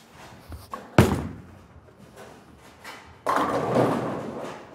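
Bowling ball crashing into pins on a lane, a sharp impact followed by scattering clatter and tumbling, then a second louder burst of rattling pins, fairly close and without talk.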